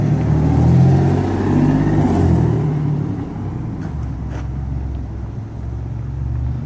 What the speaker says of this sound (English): Don't mind the exhaust leak.